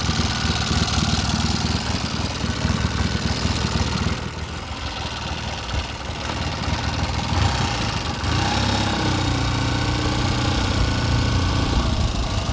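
A 1972 Triumph Tiger 650 British motorcycle engine running close by, a loud, steady idle with a throbbing mechanical rumble that dips briefly and then rises again.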